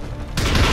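A single heavy gunshot in XCOM 2 hits suddenly and loudly and fills the rest of the moment with a dense, booming blast.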